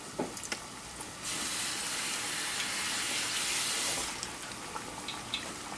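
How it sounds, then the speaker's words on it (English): Battered blooming onions dropped into hot frying oil give a sudden loud, steady sizzling hiss that holds for a few seconds, then settles into a quieter bubbling crackle with small pops. "I have our onions here in the batter and I'm going to put it in here. See, and it's bubbling away."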